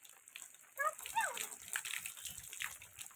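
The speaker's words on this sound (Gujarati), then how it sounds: "લાઈનના પાણીથી નાહી લઈએ." Someone bathes with tap water outdoors after rain in Rajula, Gujarat, with close, intermittent splashes and pours, and brief voices, including a child's, near the start.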